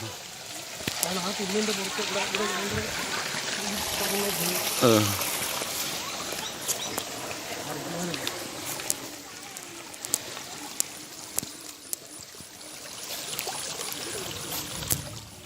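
Water pours and trickles steadily throughout, with people talking over it outdoors.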